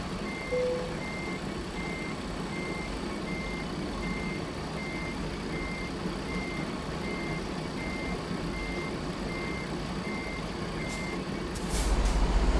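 Reversing truck in American Truck Simulator: a steady series of evenly spaced electronic backup beeps over a low engine idle, with a brief hiss like an air brake near the end.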